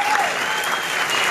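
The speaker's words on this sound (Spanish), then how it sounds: "Un fuerte aplauso para ellos." Applause from the audience at the closing and awards ceremony of the FICIC 2018 film festival, dense and steady throughout, with a faint voice or tone briefly audible early on.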